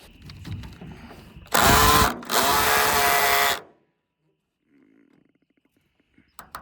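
A ratchet works at a bolt on a 1998 Chevy Cheyenne C2500 pickup, heard as two close, loud bursts of mechanical whirring about two seconds long, followed by near silence and a few faint clicks.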